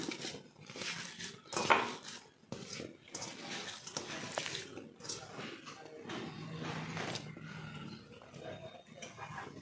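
Grated boiled potato is worked into poha in a bowl, with uneven squelching and scraping and occasional clinks of a utensil against the bowl, close and fairly loud in bursts.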